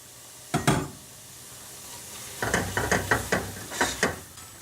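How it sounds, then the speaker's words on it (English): Sharp sizzling bursts as crushed ginger-garlic paste hits hot oil in a pan, several crackling spurts in quick succession after a brief first burst, then settling. "I crush the garlic and ginger together, and I'm going to put it in and fry it."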